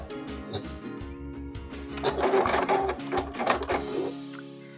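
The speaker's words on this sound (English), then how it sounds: "I can just sew right across there without marking" A sewing machine stitches corner to corner across a quilt block, a close rhythmic mechanical whir and thump that runs steadily for several seconds, then slows and stops.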